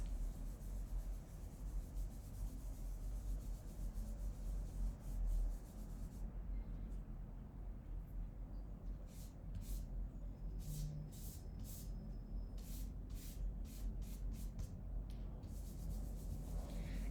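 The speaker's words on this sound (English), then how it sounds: "And then smudge this." Soft, quiet rubbing and scuffing as charcoal is smudged across a drawing on paper, with faint brushing strokes and some light clicking ticks in the latter half, no talk.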